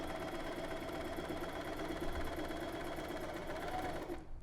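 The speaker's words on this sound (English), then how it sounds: "sew in a straight line right along the top stitching along this fold here" A sewing machine top stitching in a straight line along a fabric fold of a drawstring bag, a continuous rapid mechanical whir that stops abruptly at the end, close and steady.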